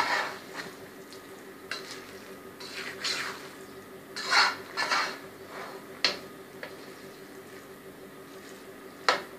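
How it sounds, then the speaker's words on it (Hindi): Chicken vegetable rice being stirred with vinegar in a pan, a spatula scraping and clinking in repeated bursts over a soft low sizzle, close and fairly quiet. "विनीगर डाल के आप इसको अच्छी तरीके से मिक्स कर लें।"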